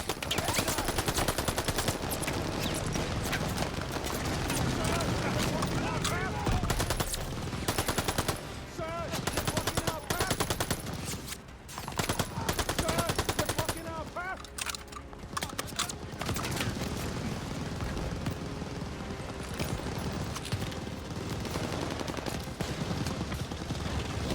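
Rapid machine gun bursts in Call of Duty: Vanguard, loud and near, coming in dense stretches broken by brief lulls, with voices talking over the combat.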